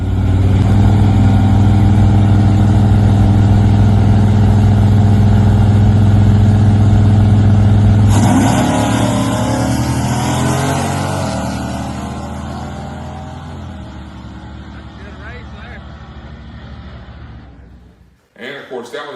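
Chevrolet C10 truck on a foot-brake drag launch: a loud, steady engine drone holds strong, then breaks into a rising roar as the truck pulls away, gradually fading into the distance before a brief burst of nearby noise at the end.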